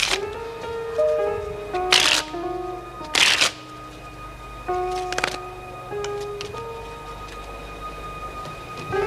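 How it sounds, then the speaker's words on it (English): A deck of cards being shuffled indoors, with brief bursts of riffling and sharp snaps set against sustained background music and faint room noise. "as it is my lipstick, I think I should be the one to shuffle"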